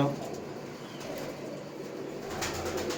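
Pigeons kept for sale coo softly and steadily in a loft, with a low murmur of voices and faint rustling running through.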